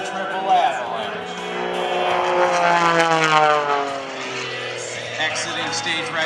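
Aerobatic propeller aircraft performing stalls, rolls and inverted manoeuvres at an Air National Guard open house airshow in Rhode Island, its engine droning and shifting pitch steadily throughout, mixed under continuous talk from a public-address announcer.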